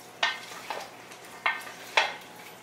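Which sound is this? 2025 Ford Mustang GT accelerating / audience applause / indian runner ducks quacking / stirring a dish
stirring a dish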